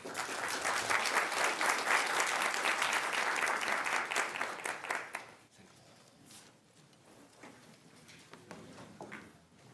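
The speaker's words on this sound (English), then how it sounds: "please give a round of applause to the panels." Applause for the panel at the close of a lecture on China-U.S. rivalry, a full round of many hands for about five seconds that then drops away to scattered claps and quiet room noise.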